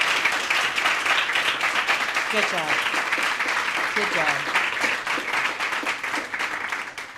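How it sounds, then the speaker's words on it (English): Steady applause from an audience honoring writers at a campus writing-center reading, dense clapping continuing throughout with voices briefly heard over it. "Please give them all a round of applause."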